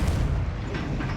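Confringo explosive spell blast in Hogwarts Legacy, a loud booming burst with a rumbling low tail, alone and close.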